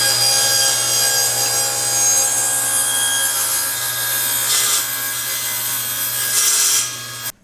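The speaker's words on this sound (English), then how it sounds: "now I'm going to start the saw and plunge up through it" A table saw runs loudly, its blade plunging up through a zero clearance insert clamped in place, giving a steady high whine with two brief rasping bursts of cutting before it winds down.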